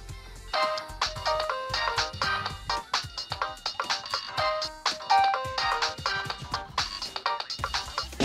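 Mobile phone ringtone in the PS2 game Disney's Extreme Skate Adventure, a bright, busy electronic tune with rapid repeating melodic notes and a punchy beat, played continuously at moderate loudness.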